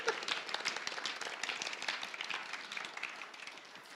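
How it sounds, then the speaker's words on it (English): Steady audience clapping at a family night gathering, a dense patter of many hands held at an even level for several seconds, fairly faint and slightly distant, with no one speaking over it. "We may clap now."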